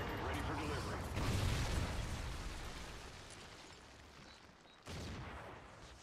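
Incoming rocket strike in Call of Duty Ghosts on Wii U, a dense rumbling blast that swells and slowly fades, then a second burst of noise near the end, with talk over it.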